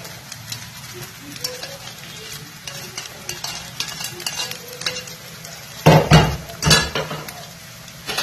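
Rice is tipped into a hot frying pan for fried rice and stirred, with a spatula scraping and knocking against the metal over a soft sizzle, followed by a couple of louder clanks.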